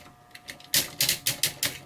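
The ratcheted shoulder joints of a Takatoku VF-1 toy are worked by hand, producing a close series of six or seven crisp plastic clicks in a quick, fairly even rhythm after a quieter start.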